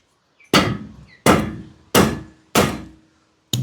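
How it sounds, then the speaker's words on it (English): Four loud, evenly spaced hammer blows ring out sharply against a stuck carburetor on a Triumph Spitfire, each metallic clang decaying before the next, with a fifth strike starting at the end. "We'll just keep beating it with a hammer."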